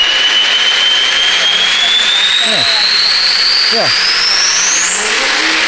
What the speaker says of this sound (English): I'll let you turbo spool it up so you can hear it loud